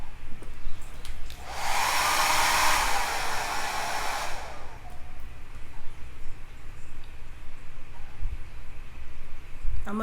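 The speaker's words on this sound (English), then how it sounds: "the blow dryer is too loud" A blow dryer drying a wig roars loud and close for about three seconds, then cuts off, leaving quiet room background.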